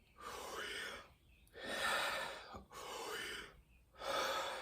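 Slow, deep breaths drawn in through the mouth during a breathing exercise for brass playing, four long airy inhales and exhales in a steady rhythm, close and quiet with no talk.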